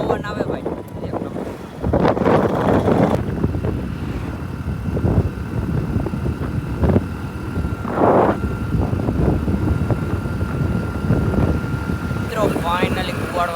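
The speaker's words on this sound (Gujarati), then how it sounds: "પવન આવે ભાઈ એક નંબર." Strong wind buffets the microphone throughout while travelling outdoors near Kuvadva, making a loud continuous roar with gusting swells.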